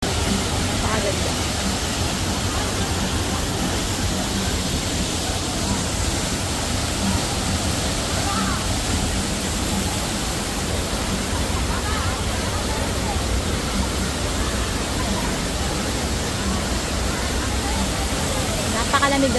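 Taytay waterfall at Majayjay, Laguna, a steady, loud broadband roar of falling water filling the whole scene without pause.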